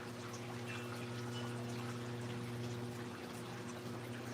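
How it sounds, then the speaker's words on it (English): Water flows steadily outdoors at a fishing spot, a continuous pouring, trickling wash with a low steady hum beneath it, fairly close and unbroken throughout. "The sound of the water is relaxing."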